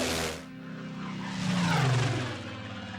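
A transport plane flying over the Alaskan wilderness, a continuous engine drone with a rising, swelling whine in the middle, steady and moderately loud with no talking.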